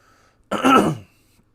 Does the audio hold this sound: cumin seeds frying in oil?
no